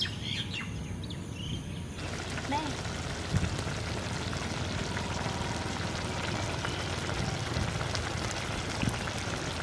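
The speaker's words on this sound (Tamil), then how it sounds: "தக்காளியை நல்லா போட்டு வதக்கணும்" Tomatoes being sautéed with onions in a pan for a traditional Tamil Nadu dish, a steady close crackling sizzle running throughout with a few small clinks.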